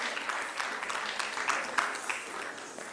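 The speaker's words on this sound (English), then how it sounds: "Give them another round of applause," Audience at a Janmashtami satsang applauds performers after a dance depiction, a steady wash of clapping from many hands, moderately quiet and continuous for the whole stretch.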